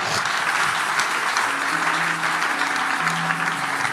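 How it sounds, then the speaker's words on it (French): A church congregation claps and cheers in sustained, steady applause that fills the room, with scattered voices shouting underneath. "Bon, acclamez bien"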